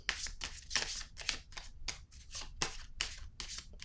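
Tarot-style cards are shuffled and drawn for a reading, a quick run of crisp riffling bursts and soft slaps at close range, with no talking.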